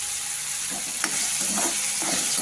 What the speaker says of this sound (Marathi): आपण याच्यामध्ये टाकू आता कढीपत्ता